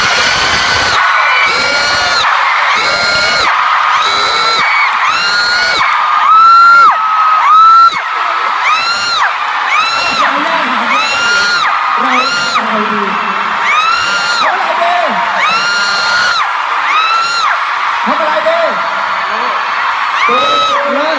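A large crowd of fans screams and whoops continuously in loud, pulsing waves at a celebrity couple introduction, with a voice briefly cutting through the din.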